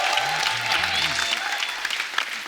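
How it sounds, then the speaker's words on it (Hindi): Studio audience on a comedy talk show clapping for the film Shubh Mangal Zyada Saavdhan: a continuous wash of applause, with a voice briefly audible over it. "शुभ मंगल ज्यादा सावधान के लिए एक बार जोरदार ताली हो जाए"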